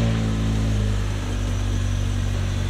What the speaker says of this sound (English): I guess I'll start the car.